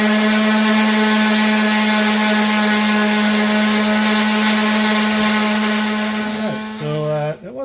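A scratched wheel rim with rock rash is power-sanded with 80 grit sandpaper, giving a loud, steady, close motor whine that holds its pitch and then winds down and wavers at the end.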